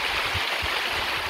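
Water rushing steadily at Lesmurdie Falls near Perth, Western Australia, a loud, continuous broadband flow close by with no talk over it.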